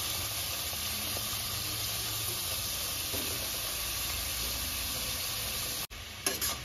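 Grated carrot sizzles in hot ghee in a pan for gajar halwa, giving a soft, even frying hiss that runs unchanged for several seconds before a brief clatter near the end.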